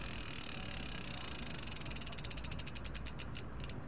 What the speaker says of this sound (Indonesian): Ini jangkrik.